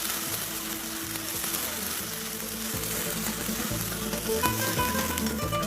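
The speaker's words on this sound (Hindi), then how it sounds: "और अब इसकी भुनाई का अमल शुरू हो जाएगा।" Onion, ginger and garlic paste frying in a pan, a loud continuous close sizzle with low bubbling texture throughout and no talking.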